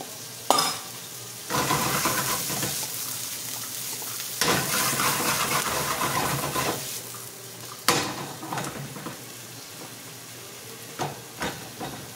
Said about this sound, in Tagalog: This is our fried rice and the sausage.